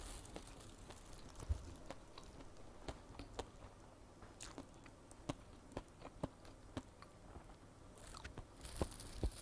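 Someone eating a carrot dish with a soft-boiled egg: quiet, close, crunchy bites and chewing come in an irregular series with short pauses between them.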